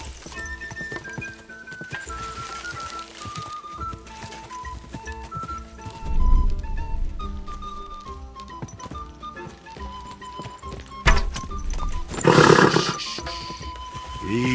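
A horse in the video game Kingdom Come: Deliverance II clip-clops at a steady trot over a musical score, with a few louder snorting bursts midway and near the end.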